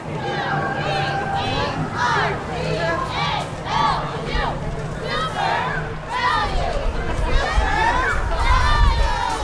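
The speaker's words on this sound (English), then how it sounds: "Give us a cheer." Spectators at a county fair parade shout and cheer in a dense, continuous babble of voices, with excited high yells rising above the crowd noise throughout.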